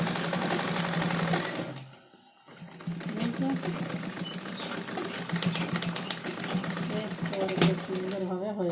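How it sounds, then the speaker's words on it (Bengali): A sewing machine stitching an extra strip of cloth onto blouse fabric, giving a fast, even mechanical rattle that stops briefly and then starts up again, with a person talking over it. "এই যে চলো তো আমি আর একটা সেলাই দেবো এখানে।"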